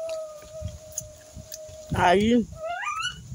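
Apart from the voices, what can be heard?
dog howling and whimpering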